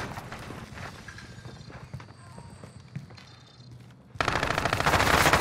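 Gunfire in the video game Call of Duty: Modern Warfare bursts in loud and dense near the end, following quieter background battle noise with rumbling and scattered clatter.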